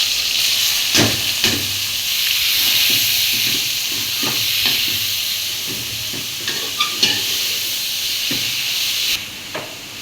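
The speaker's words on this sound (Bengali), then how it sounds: "এখন তেল দিয়ে দিচ্ছে ডেকচিতে তারপর রসুন দিয়ে দিছে তারপর শুকনো মরিচ এখন শাকটা দিয়ে দিচ্ছে" Greens going into hot oil with garlic and dried chili in a cooking pot, giving a loud, steady hissing sizzle with occasional knocks and clatters nearby.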